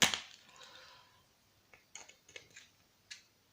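A piezo buzzer is pried out of a BT cordless phone during a teardown: a loud crack at the start, then a series of small sharp plastic snaps and clicks, close up with no talking.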